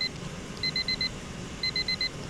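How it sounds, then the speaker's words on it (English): An alarm clock rings in a bedroom, giving two groups of four quick, high electronic beeps separated by a short pause, faint and alone against quiet room noise. "let me just turn off this alarm because it's really annoying me and I hate it"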